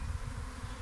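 A swarm of bees outdoors makes a brief, dense, continuous buzzing drone, fairly faint and steady with no voices.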